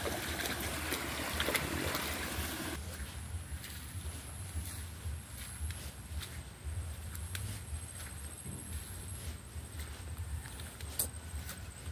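A creek flows with a continuous soft rushing and trickling of water, faint and steady throughout with no voices.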